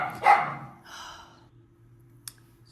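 A dog barks once, loud and near, followed by a fainter trailing yelp and a steady low background hum, then a tiny click near the end.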